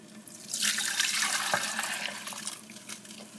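Strained hot chocolate, Haitian style, is poured back into a pot, a steady liquid pour that rises quickly, holds for a few seconds and then tapers off close by.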